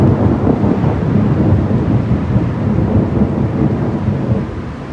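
A thunderstorm over Clinton Lake west of Lawrence, Kansas, sends a loud, continuous low rumble of thunder mixed with rain hiss, close and heavy for several seconds before easing slightly at the end.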